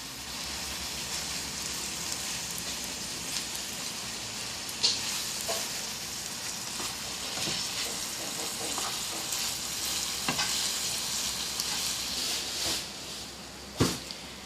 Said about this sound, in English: after 5 minutes of stirring or stir frying the rice stick noodles or the bihon with the water that we added